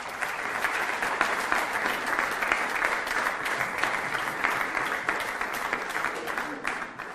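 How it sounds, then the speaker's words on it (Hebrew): Live audience breaking into dense, sustained applause that holds steady and loud from start to finish, with a crowd clapping together throughout. "מגיע לו מחיאות כפיים או לא, חבר'ה?"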